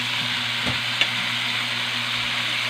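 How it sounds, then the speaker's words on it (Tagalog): Bitter gourd (ampalaya) frying in oil in a pan, a steady even sizzle with a low hum beneath and a couple of faint clicks from stirring, no talk. "Fried muna natin ang ampalaya."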